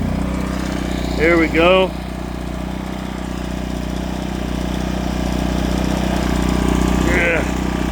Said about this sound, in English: that rev up was because now it's powering my freezer, my 5 cubic foot freezer